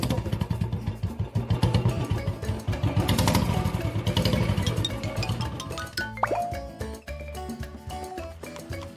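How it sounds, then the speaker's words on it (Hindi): A motorcycle engine revs over a busy backing of music, its note rising and falling in pulses before a brief clatter near the end. "मम्मा बोले मोटरसाइकिल"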